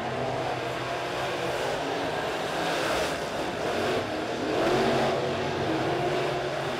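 Dirt late model race cars roar around Springfield Raceway during a heat race, a dense, continuous engine drone that swells and fades slightly as the pack passes, heard from trackside.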